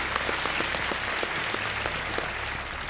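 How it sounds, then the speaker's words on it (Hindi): Studio audience applause on an Indian television quiz show set, a steady dense clapping from many hands that holds at an even level throughout, with no voices over it. "तालियों के साथ इनका हम स्वागत करते हैं।"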